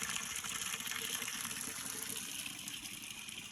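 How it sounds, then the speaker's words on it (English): Pure spring water gushes straight from its natural source in a steady, close, full rushing flow with no pauses and no voices. "It's pure spring water."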